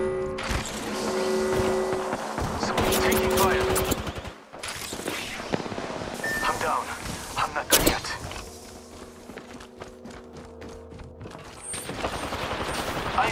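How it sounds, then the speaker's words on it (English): Bursts of enemy gunfire in the Apex Legends Arenas shooter game, rapid automatic volleys with sharp single cracks, loud and close, coming in repeated clusters over a busy game soundscape. "The enemies are shooting at me."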